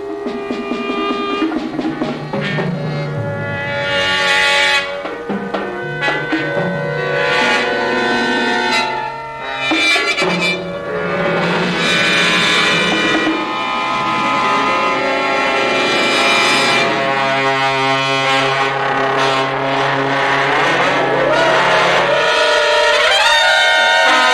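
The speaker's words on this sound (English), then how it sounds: "we hear a group of students in one section of a contemporary piece by William Albright entitled Foils for Wind and" A student wind and percussion ensemble playing a section of William Albright's contemporary piece Foils for Wind and Percussion, sustained full chords with sharp accented attacks and shifting brassy swells, loud and unbroken for the whole stretch.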